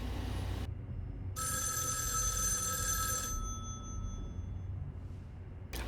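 A telephone rings in the video game Erica: one bright electronic ring burst about two seconds long, clear and moderately loud against a quiet low hum, with no talking.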